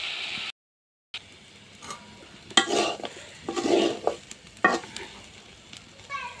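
Potatoes fry in oil in a home pan over low heat, giving a bright sizzle with stirring and scraping bursts, loudest in the second half, after a brief silent gap near the start.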